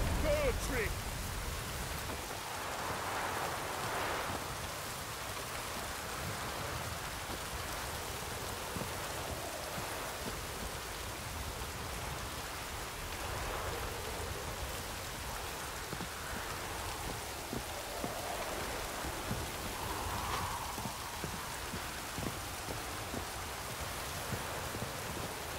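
Rain in The Witcher 3: Wild Hunt on Xbox One falls as a steady, soft hiss of drops throughout, fairly quiet and even, with faint game sounds beneath.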